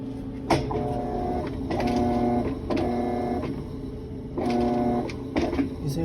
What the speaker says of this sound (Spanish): Dice el cliente que esta lavadora hace un ruido muy fuerte